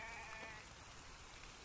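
Sheep in The Infected video game bleating once, a short wavering cry at the start over a faint background hiss.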